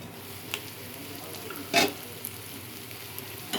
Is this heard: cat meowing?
no